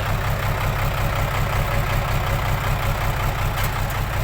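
A farm tractor's diesel engine running steadily while readying to pull a vehicle stuck in deep mud, a loud, even low rumble held close up with no breaks and no talk.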